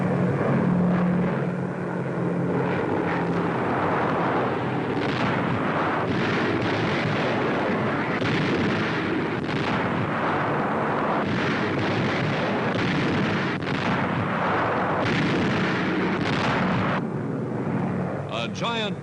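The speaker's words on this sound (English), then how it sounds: "A giant bomber unloading a never-ending cargo of death upon the enemy." Archival newsreel of WWII heavy bombers raiding Hamburg carries a continuous rumbling roar of aircraft engines and blasts, loud and dense throughout, with a narrator speaking over it.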